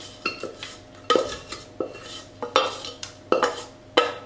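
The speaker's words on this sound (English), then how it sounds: "I'm going to tip my mixture into my lined tin." Oat flapjack mixture being tipped and scraped into a lined tin with a spoon, a series of close clinks and scrapes in an uneven rhythm, about a dozen knocks against metal, no talking.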